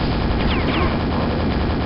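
Rapid mechanical rattle of the super nailgun firing continuously in Quake, a dense steady stream of shots with faint whizzing ricochets, loud and close.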